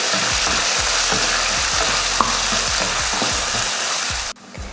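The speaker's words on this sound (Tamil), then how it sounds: "அடுத்து தக்காளி, சின்ன தக்காளியாக 2 தக்காளி வதங்கட்டும்." Two small tomatoes sauté in a pan for rasam with a loud, dense sizzle, steady crackling and rhythmic low scraping strokes of stirring close by, ending in a sudden drop.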